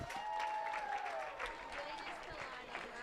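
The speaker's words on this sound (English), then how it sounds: "Let's give all these kids a round of applause" Spectators at a 4-H market hog show at a county fair applaud the young exhibitors, a faint, continuous patter of clapping with a whistle-like tone and talk underneath.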